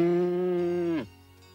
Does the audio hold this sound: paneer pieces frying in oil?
no